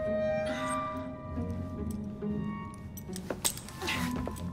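Keys jangle and clink as they are handed over in Assassin's Creed Syndicate, a light metallic rattle over steady game background ambience, with a sharper cluster of clinks near the end.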